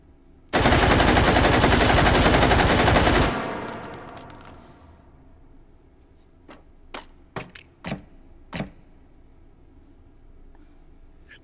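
A VZ58-V rifle chambered in 7.62x39 fires in the VR shooter Hot Dogs, Horseshoes and Hand Grenades: one loud, sustained burst of rapid automatic fire for about three seconds, then a handful of separate sharp single shots.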